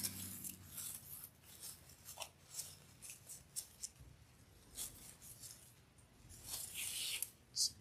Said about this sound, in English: Trim our ribbon.